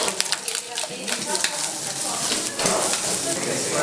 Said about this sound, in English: This part we're going to fry our apples.